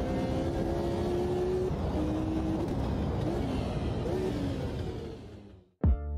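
Period Formula 1 race car from the 1960s in Automobilista 2, its engine droning steadily and loud with rising and shifting harmonic tones, then cutting out abruptly near the end before a short burst.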